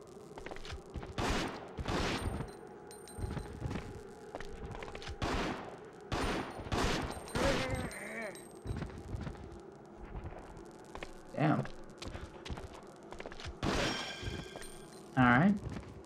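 Gunshots from the survival horror video game Resident Evil Outbreak come as a series of sharp reports spread across a tutorial sequence, some in quick bursts, over a steady game background hum with occasional metallic clinks.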